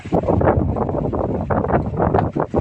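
Strong storm wind during rain buffets the microphone, producing a loud, continuous roaring rumble with gusty surges throughout.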